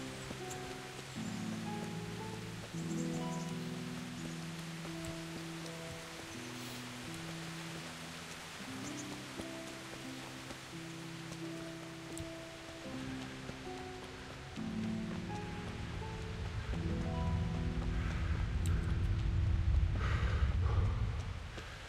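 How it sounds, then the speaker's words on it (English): Steady rain hiss in a video game beneath sustained low musical tones, growing a little louder toward the end, no talk. "It rains a lot here."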